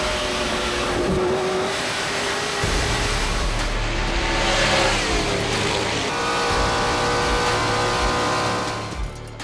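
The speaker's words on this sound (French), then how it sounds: "Le drapeau blanc est agité, dernier tour pour Marc-Antoine Camiran, Gary Claude et Louis-Philippe Dumoulin." A drag racing car engine roars loudly and steadily on the final round of a race, a sustained mid-pitched drone with rising harmonic tones toward the end and no voices over it.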